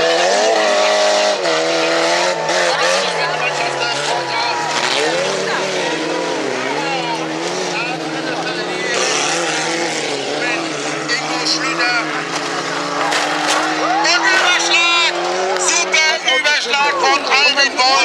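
A battered race car runs on the track at a Heide-Cup club race, its engine roaring steadily throughout beneath continuous excited commentary over a loudspeaker.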